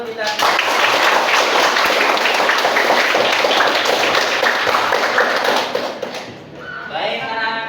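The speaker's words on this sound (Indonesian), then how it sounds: "Oke, baik, untuk tepuk tangan untuk kita." Classroom children applaud together in a dense, steady burst of clapping that lasts several seconds, then fades, with a voice speaking briefly at the end.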